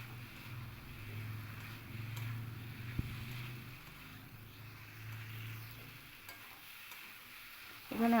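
Fried taro and potatoes tossed with spices in a pan for a vegetarian curry, a soft continuous sizzle with faint stirring scrapes, low and steady, ending with a brief louder clatter.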